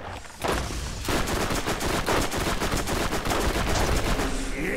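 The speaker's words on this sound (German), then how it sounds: "selbst dein SMG ist derart laut, da höre ich mich selber nicht mehr an" Submachine gun fire in the video game Borderlands, loud rapid bursts of automatic shots that start abruptly and keep going almost without a break.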